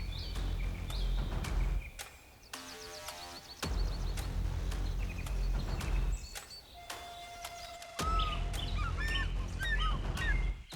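Birdsong along a river in Nyerere, Tanzania, where an African fish eagle calls from riverbank trees: bright, repeated calls ring out over a dense chorus of other birds and constant wildlife noise, with several loud bursts throughout.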